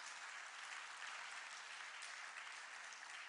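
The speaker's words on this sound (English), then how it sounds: "Let's hear you clap for 20 seconds." Steady, dense clapping from an audience at an education event for educators, sustained and even throughout with no voices over it.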